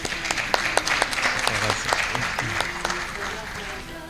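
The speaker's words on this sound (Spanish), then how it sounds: "Lo recibimos con un fuerte aplauso." A hall audience gives a warm round of applause to welcome a priest arriving to speak, steady dense clapping with a few murmurs and voices underneath throughout.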